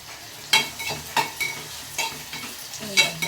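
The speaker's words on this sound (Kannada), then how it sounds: "ಈಗ ಬೆಂಡೆಕಾಯಿ ಪಲ್ಯಕ್ಕೆ ಒಗ್ಗರಣೆ ಹಾಕಿದ್ದೀನಿ" Tempering spices sizzle steadily in hot oil in a pan for an okra dish while a spoon scrapes and stirs in several sharp strokes, close and loud, with no voices.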